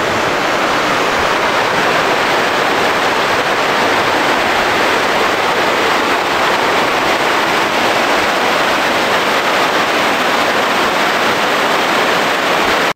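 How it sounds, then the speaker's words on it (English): Mountain waterfall in Yankee Boy Basin near Ouray, Colorado, a loud, constant roaring rush of falling water, close and unbroken for the whole stretch, with no voices. "there's this awesome waterfall right here, which I'm sure you can hear"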